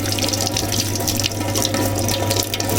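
Steady splash of water pouring from a kitchen tap onto ojri (tripe) in a sink, a continuous hiss and patter at close range with no talk.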